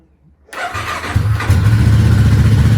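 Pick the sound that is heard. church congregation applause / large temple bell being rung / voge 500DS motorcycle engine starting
voge 500DS motorcycle engine starting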